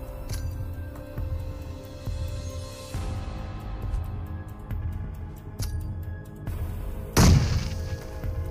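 Grenade blasts in a PUBG mobile match: a loud booming burst near the end stands out over a steady rumbling game backdrop with occasional thuds, and no one talks.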